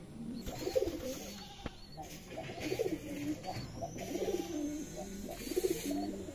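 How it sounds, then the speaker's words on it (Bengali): Male pigeons coo and call from their coops, a steady overlapping run of low, throaty coos, fairly close, with soft background noise. "চারজন মিলে চারটা খোপে ডাকতেছে, আর এই পাগলা নরটা নিচেই ডাকে।"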